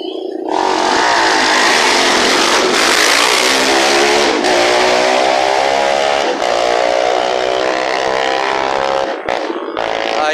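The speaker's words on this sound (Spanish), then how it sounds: "Se viene la primer cuadriciclo, la 11A." A quad bike engine bursts to life at a race start on a seafront and revs hard, a loud buzzing roar that climbs and holds, with brief cut-outs before surging again.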